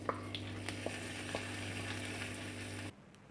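Hot oil tempering with curry leaves sizzles loudly as it is poured into ridge gourd roti chutney, a steady frying hiss with small crackles that cuts off abruptly near the end.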